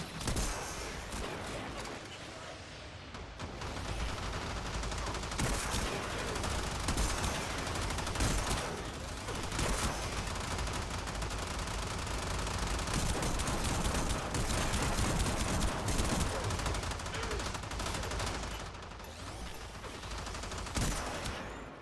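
Staticor energy weapon in the video game Warframe, with bursts of blasts and crackling shots overlapping in dense, loud fire that runs almost continuously and dips briefly between volleys.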